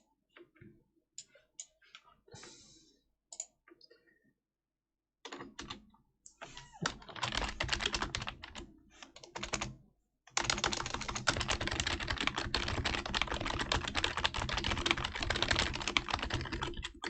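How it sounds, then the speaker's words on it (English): Typing on a computer keyboard during a live Timberborn gaming stream, sparse scattered keystrokes at first, then a brief pause, then fast continuous clattering typing that grows louder and denser toward the end. "I was typing a note saying"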